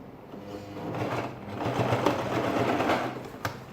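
A sewing machine back stitches a shirt dress, its motor whirring in a steady rapid patter that builds in loudness partway through, with a sharp click near the end.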